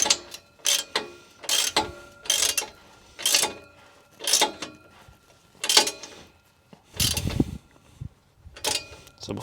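A ratchet wrench tightens muffler delete bolts on a 2019 Subaru WRX STi in about nine quick, evenly spaced bursts of sharp clicking, close and clear, with no talk.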